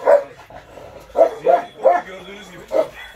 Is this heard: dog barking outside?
yes